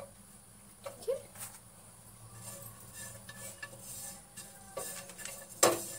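Coconut and garlic cloves stirred and dry-roasted in a pan over a gas flame for vada pav, with a soft background sizzle and a few spoon scrapes and clinks against the pan.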